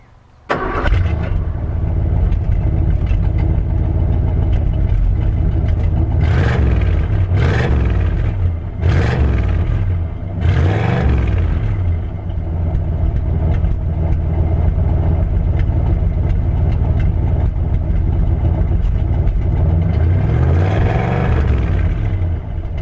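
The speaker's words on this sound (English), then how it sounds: "let's go to hear it at the important end, the exhaust pipes." A 1973 Ford Gran Torino with a 302 V8 heard from behind at the exhaust pipes, starting up and then idling with a loud, steady rumble, with a few brief blips of the throttle along the way.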